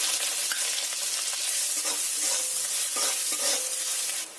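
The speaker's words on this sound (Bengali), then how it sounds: "এবার ভেজে রাখা পেঁয়াজের থেকে কিছু পরিমাণ পেঁয়াজ এতে দিয়ে দিলাম।" Pre-fried onions go into hot oil with two small cardamom pods and a cinnamon stick, producing a loud, continuous sizzle with faint stirring scrapes throughout that drops off briefly near the end, with no voices.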